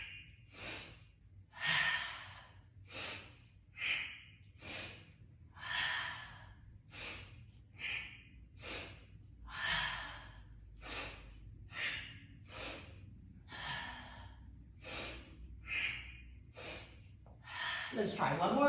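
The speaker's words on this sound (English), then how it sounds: "So here I'm breathing in through the nose, out through the nose, in through the nose," Slow, deep breaths drawn in and pushed out through the nose repeat in a steady rhythm of airy, close rushes, roughly one every second, over a faint low hum.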